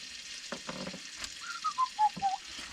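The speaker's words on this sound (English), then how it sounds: "I am actually having a cookout in the garage with a classic paraffin stove" Food frying in a pan on a classic Valor paraffin stove in a garage, a soft continuous sizzle with a few clicks and stirring knocks, then several short rising whistle-like squeaks near the end.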